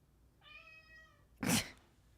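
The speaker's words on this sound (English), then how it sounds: "And look, it's a kitty." A cat gives a single clear, drawn-out meow, fairly close and quiet, followed by a short sharp noise like a bump or rustle.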